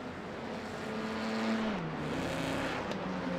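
Race cars in a sim racing game at the Hockenheimring drone past, one engine note holding steady and then dropping in pitch as it goes by, its whine swelling and then fading with no talk over it.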